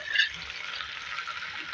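Cumin seeds and potatoes frying in oil in a pan, a steady close hiss of sizzling with a brief louder burst at the start, no talking.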